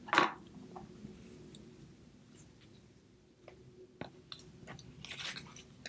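Scissors trimming cardstock for a handmade fall card, a handful of short crisp snips and paper rustles, close and soft with quiet pauses between cuts.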